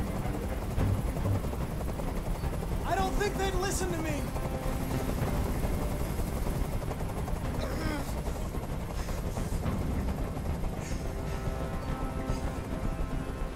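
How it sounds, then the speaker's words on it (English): A helicopter hovers in the video game Detroit: Become Human, its rotor a steady, continuous drone under a man's speech, with other game sounds layered on top. "Tell that helicopter to get out of here."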